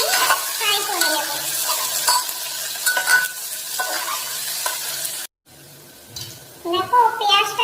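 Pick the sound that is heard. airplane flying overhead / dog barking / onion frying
onion frying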